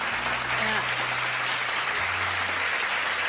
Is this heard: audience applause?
yes